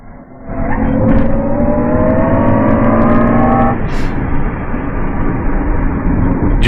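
A 2022 Jaguar I-Pace EV400 HSE electric car accelerates hard, its rising electric motor whine climbing steadily in pitch before shifting to a broad, loud road and wind roar as speed builds; no one speaks.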